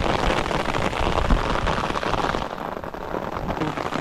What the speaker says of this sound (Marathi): पाऊस हो इलो